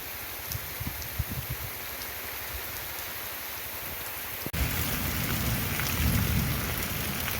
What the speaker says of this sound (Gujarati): તો તમે ખેડૂત મિત્રો જોઈ શકો છો અત્યારે કે જો હવે વરસાદની જમાવટ લીધી છે